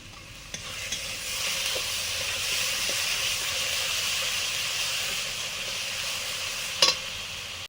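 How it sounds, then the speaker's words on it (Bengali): Masala spice paste with a splash of water fries loudly in a pan, producing a steady, dense hiss and sizzle. A few scraping stir strokes and a sharp clank near the end cut through it. "একটু জল দিয়ে মশলাটা কষবো।"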